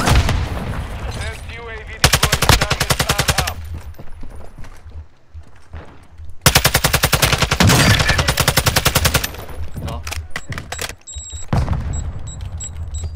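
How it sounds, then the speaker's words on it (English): Two long bursts of rapid automatic gunfire in Call of Duty DMZ, loud and close, separated by quieter gaps with game sounds and brief voices. "You are taking effective fire."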